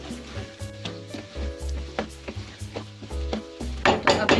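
Mixed vegetables with coriander frying in a pan, a steady sizzle broken by repeated scraping and clinking strokes of a spoon stirring, close and fairly loud, with a low tonal hum underneath and a brighter crackle rising at the end.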